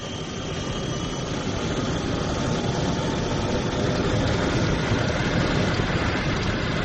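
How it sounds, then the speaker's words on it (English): A jet aircraft roars continuously as a sound effect in a 1979 radio drama, a steady, dense engine noise that swells slightly as it takes off, with no speech. "Fastjet 101, clear for takeoff."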